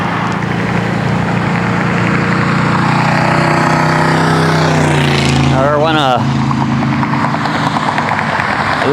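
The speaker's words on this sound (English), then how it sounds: "It looked like a 70-ish car or some sort of an Oldsmobile with a very loud muffler." Loud-mufflered 1970s-era Oldsmobile car speeding past a roadside bike path, its rumbling exhaust swelling and then dropping sharply in pitch as it flies by close, over steady wind and road noise.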